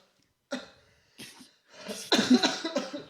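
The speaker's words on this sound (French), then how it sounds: "j'ai une toux qui ne veut pas partir." A person with a lingering cough coughs in three separate bursts, starting with a single sharp cough, then a short second one, and ending in a longer, louder fit of several rough coughs, heard close and alone.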